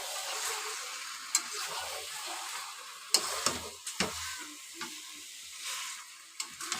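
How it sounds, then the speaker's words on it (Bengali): Chicken pieces sizzling as they are stir-fried in a pan at home, with a steady quiet hiss broken by occasional scrapes and clinks of a spatula stirring the meat. "আর এই মাংস কষানো হচ্ছে।"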